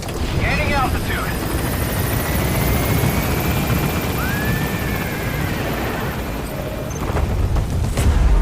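Helicopter lifting off and climbing out of a hot zone in Metal Gear Solid V, a dense continuous rotor and engine rumble with whining tones over it, steady and loud throughout.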